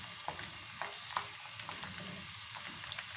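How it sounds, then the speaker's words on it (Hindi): Garlic sizzling and frying in hot oil for a tadka for carrot and lemon pickle, with a steady soft crackle, occasional pops and faint stirring, quiet and close. "लहसुन को हमें जलाना नहीं है, इसको बस हल्का सा इसके अंदर फ्राई करना है"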